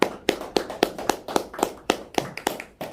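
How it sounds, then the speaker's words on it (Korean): An audience at a church lecture claps in a sparse, regular rhythm of about a dozen distinct close claps that fall roughly every quarter second, each sharp with a short decay, and few hands join in. "뜨거운 박수 부탁드리겠습니다"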